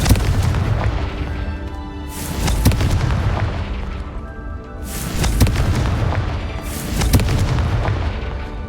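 Confringo blasting spell explosions in the Hogwarts Legacy video game, several loud booming blasts with rumbling low-end tails recurring every couple of seconds over dense game effects.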